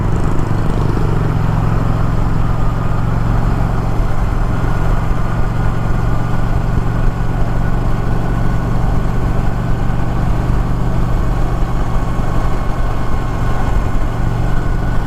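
A 2024 Indian Challenger Dark Horse motorcycle cruising on the highway at about 110, its engine a constant loud droning hum mixed with rushing wind, steady throughout with no talk.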